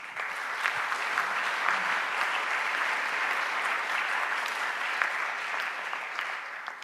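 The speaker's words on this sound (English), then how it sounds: "Let's have a round of applause for the YMIR leads." Conference audience at ISMIR 2025 breaks into sustained applause, a dense even patter of many hands clapping in a large hall, steady throughout without speech over it.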